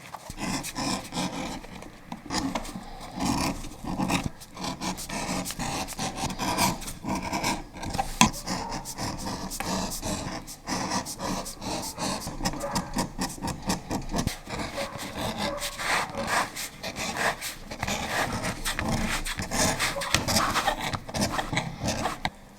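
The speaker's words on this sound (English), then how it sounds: "So these also need to be beveled to make it look real nice and smooth." Leather edges are beveled by hand for a gambler cowboy hat, giving repeated scraping, rasping strokes in a close, steady rhythm that runs on without pause and with no talk.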